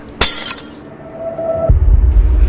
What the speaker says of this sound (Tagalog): May biglang bumagsak na bote na mula sa hindi kalayuan ng kanilang kinaroroonan.